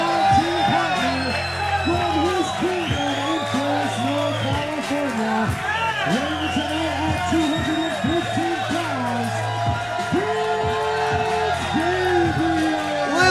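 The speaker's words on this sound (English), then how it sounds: "Listen to this huge ovation for Prince Gabriel" A wrestling crowd roars and cheers in an ovation for wrestler Prince Gabriel, loud sustained whoops and yells with chanting voices throughout the arena.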